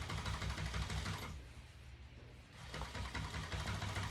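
A sewing machine stitches tape onto marine boat cover upholstery, a loud, close, steady mechanical whir that pauses briefly mid-run, then starts up again.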